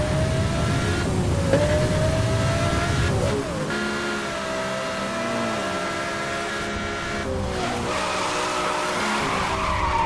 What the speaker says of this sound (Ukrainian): І знову боком ми їдемо